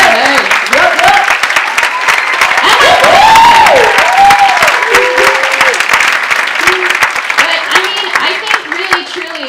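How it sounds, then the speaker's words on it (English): Audience at the Paris Theater applauds loudly for the speaker's mother during a Q&A, dense clapping with scattered cheers and excited voices calling out over it. "I'd like my mother to stand up and take an applause"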